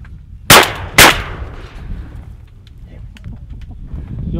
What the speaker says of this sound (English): I flipped the camera on to shoot that coot